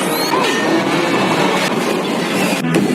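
Mine cart rolling along rails in an animated film chase, a steady dense rumble and clatter that carries loud and unbroken throughout, with no speech.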